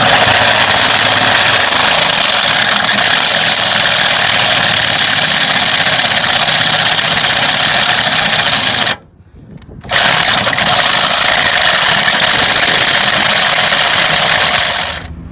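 A corded Milwaukee drill bores a hole for a hitch rack with a loud, steady motor whine and grinding. It stops for about a second partway through, then runs on evenly.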